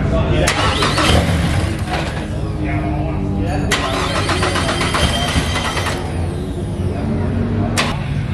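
RC drift car engine being started, a loud high-pitched nitro engine buzzing and cranking in a busy outdoor pit area with people talking nearby.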